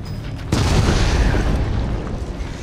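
A heavy bomb explosion in Resident Evil 7 erupts suddenly with a deep, loud boom after a brief calmer lead-in, then rumbles on and slowly fades over the following two seconds.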